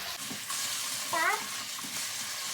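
Potatoes frying in a full skillet, giving a steady close sizzle with soft stirring scrapes; a brief voiced sound rises midway over the continuous crackle.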